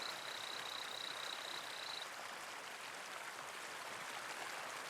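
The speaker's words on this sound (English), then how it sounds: "Like most frogs, he calls out to attract a mate." A male torrent frog gives a thin, high, steady call for about two seconds beside a roaring waterfall, the call faint and partly masked by the constant rush of water.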